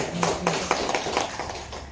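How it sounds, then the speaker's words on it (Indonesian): Participants in a group session clapping their hands together, a short run of evenly spaced claps at a steady quick rhythm over a faint background, fading slightly toward the end. "tepuk tangan dulu semuanya"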